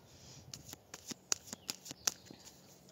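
Tarot cards are cut and shuffled close up, a series of quick papery riffles and snaps in an uneven rhythm, fairly quiet, with no speech.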